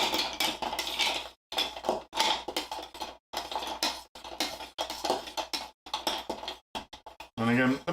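A spoon stirs a cocktail with two olives in a glass, giving rapid, close clinking and scraping taps in bursts broken by short pauses, with a voice briefly audible near the end.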